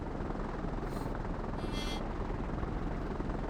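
A carrier plane flies overhead in the naval game World of Warships, launched from the Kaga aircraft carrier, producing a steady, dense rotor-like engine drone that holds evenly throughout with no talking.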